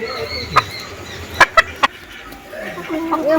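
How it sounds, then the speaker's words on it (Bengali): A native country rooster in a yard gives a few sharp, separate clucks near the start and middle, followed by a brief rising call at the end, fairly close and clear. "দেখুন কি সুন্দর মোরগটা"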